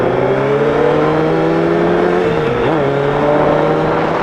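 A loud Harley-Davidson motorcycle engine with loud pipes hums steadily nearby at cruising speed, with a brief dip and rise in pitch partway through.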